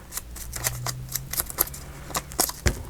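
Small scissors snip around a vintage sticker, giving a series of short, crisp cuts in quick irregular succession, close and fairly quiet.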